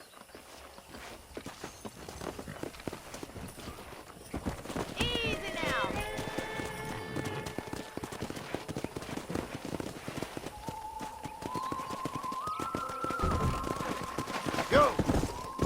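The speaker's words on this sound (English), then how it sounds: "That ranch hand said there's a pack of wild horses nearby." Wild horses and a ridden horse in the western video game Red Dead Redemption, with hoofbeats clattering steadily near and far. A sharp whinny stands out midway and another near the end, and someone speaks briefly to calm the animal.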